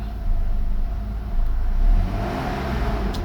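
A Mercedes 600SL engine with a dead, burnt EGAS module rumbles and revs up, a low steady drone that rises briefly in intensity before settling, with no voices.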